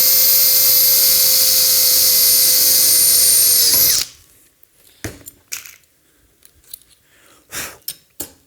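Power drill boring holes in polycarbonate plastic clamped to a table, a loud steady high-pitched whine for about four seconds that stops abruptly, then several short clicks and knocks of handling.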